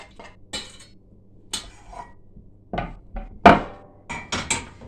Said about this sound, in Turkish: tenceremiz ses yaptı